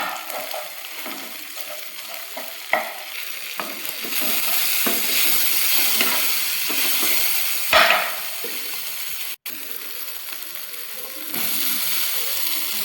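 Steady sizzling of egg frying on low heat in a pan for chicken fried rice, with scraping and stirring strokes from a utensil throughout and a brief sharp knock partway through.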